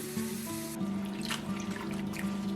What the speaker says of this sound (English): put them in a bowl of water and dredge them lightly